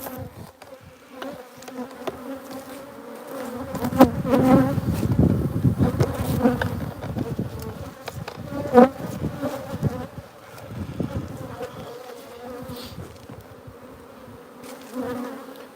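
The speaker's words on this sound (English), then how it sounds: "these are my bees" Italian honey bees buzz around a hive box in Australia, a dense, wavering drone that thickens and peaks in the middle with individual bees zipping close past the microphone, no talking.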